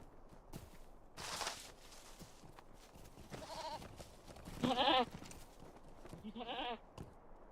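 Goats bleat a few times in a Lord of the Rings Online festival scene, short wavering cries of varying loudness that stand out over quiet footsteps and ambient game sound.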